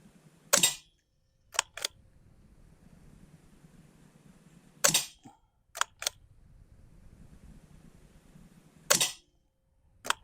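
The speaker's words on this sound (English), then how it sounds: "So that's the 8 shots of the Logun penetrator" Logun S-16 .22 air rifle firing pellets: three sharp cracks each trailed by quick mechanical clicks, spaced about four seconds apart, close and loud over a quiet background.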